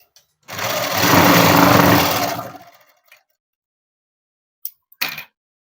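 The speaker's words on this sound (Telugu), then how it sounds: "మొత్తం లూజ్ కుట్టు పెట్టేసుకొని కుట్టు వేసేసి ఎగస్ట్రా ఉన్న క్లాత్ను కట్ చేసేసుకున్నాము." A sewing machine stitches cloth for a garment in one close, loud burst of about two seconds that winds down, followed by a couple of faint clicks and handling sounds.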